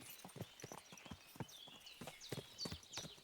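Horse hooves clip-clopping in Kingdom Come Deliverance 2, a steady run of crisp, close hoofbeats on hard ground with no talk over them.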